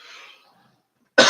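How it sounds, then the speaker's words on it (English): One sharp, close cough bursts out at the very end after a near-silent pause, with faint breathy noise at the start. "Stupid cough, only when you're online."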